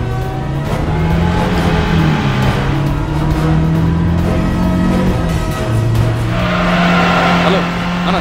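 A bus speeding through a chase: a loud, close engine roars and revs with shifting pitch, tires straining, while voices shout over it.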